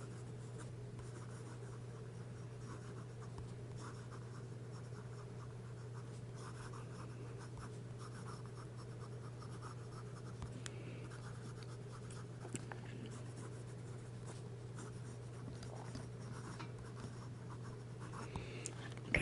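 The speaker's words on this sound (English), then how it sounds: "Some fast writing." Fast writing with a Montblanc Legrand fountain pen on paper, a faint continuous scratchy rustle of the nib against a steady low background hum, close-up with no talk.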